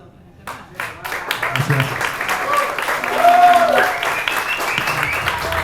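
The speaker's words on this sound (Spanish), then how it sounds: "Así que bueno, un fuerte aplauso." Applause from the audience at a book presentation in Almagro rises and carries through, with a voice speaking briefly over it near the start.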